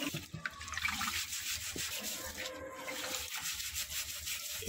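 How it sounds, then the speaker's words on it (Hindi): Rice is rinsed in a pot of water with the water changed between washes; soft sloshing, rubbing and trickling sounds play faintly and close by, steady throughout, with no talk. "2-3 बार हम धो लेंगे पानी बदल कर।"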